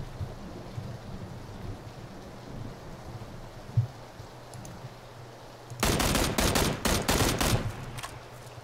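Gunshots in the battle royale game PUBG crack out in a rapid cluster of loud bangs after a long stretch of low rumbling ambience, with a few fainter reports following.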